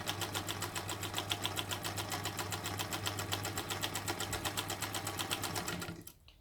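A sewing machine stitches quilt half square triangles in a steady, fast mechanical rhythm of needle strokes, close and continuous, then stops abruptly near the end.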